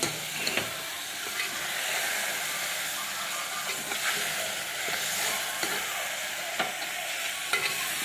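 A spoon stirs mutton gravy curry as it sizzles and fries in a pan, making a steady close hiss broken by soft scraping strokes, with no talking.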